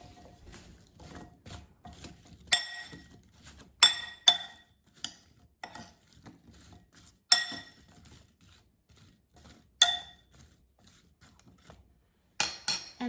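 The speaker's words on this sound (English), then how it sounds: "now I'm going to mix it so it's evenly coated with oil and seasonings" Sweet potato wedges are tossed with oil, salt and pepper in a bowl, giving soft scattered clinks and taps of a utensil against the dish. The sharp knocks are irregular and fairly close in a quiet kitchen.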